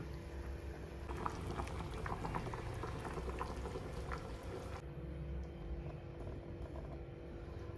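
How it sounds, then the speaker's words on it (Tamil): Kuzhambu curry bubbling steadily in a pot on the stove, a continuous close simmering roar with dense popping bubbles and no voices. "குழம்பு நல்லா கொதிச்சிட்ருக்கு."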